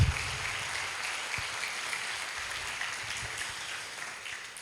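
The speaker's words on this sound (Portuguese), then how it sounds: "Dê uma forte salva de palmas para Jesus" Applause from a church congregation at a family conference rises in a broad, steady wash of clapping, moderately distant and sustained, tapering slightly toward the end with no voices over it.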